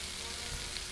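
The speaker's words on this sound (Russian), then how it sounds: "Это жарится." Salmon frying in a pan in the video game Cooking Simulator, a soft continuous sizzle at low volume with faint crackles, no talk over it.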